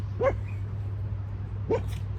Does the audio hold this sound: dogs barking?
yes